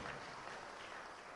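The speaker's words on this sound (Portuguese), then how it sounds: "Você pode aplaudir o nome de Jesus?" A church congregation applauds during a worship service, a dense, steady wash of clapping from many hands that holds evenly for a short moment with no pause.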